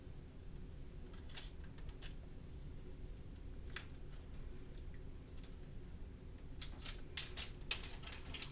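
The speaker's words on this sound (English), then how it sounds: "So we'll just peel away that carrier sheet again." A plastic carrier sheet being slowly peeled off faux leather, giving faint crinkly tearing sounds in a few short bursts, strongest near the end, over a quiet background hum.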